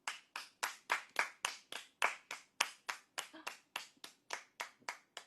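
Hands clap in a steady, brisk rhythm, about sixteen sharp claps close by over a few seconds, with no talking.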